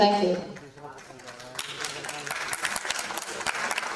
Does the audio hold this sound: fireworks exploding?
no